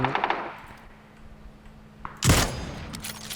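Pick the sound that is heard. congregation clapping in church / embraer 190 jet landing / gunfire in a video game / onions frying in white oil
gunfire in a video game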